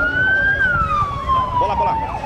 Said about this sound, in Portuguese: a viatura da polícia chegando neste momento